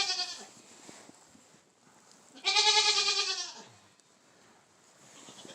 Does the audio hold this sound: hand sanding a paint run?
no